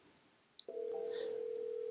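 An incoming intercom call rings on a softphone during a call-transfer demonstration, with a couple of brief clicks and chirps followed by a steady electronic ring tone that sounds continuously and clearly.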